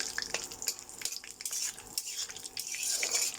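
Cashew nuts frying in ghee in a pan give a soft, steady sizzle and crackle, with a utensil scraping and clinking against the pan close by.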